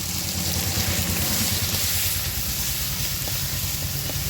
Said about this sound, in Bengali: লবণ হলুদ দিয়ে মশলাটাকে ভালো করে কষিয়ে নিচ্ছি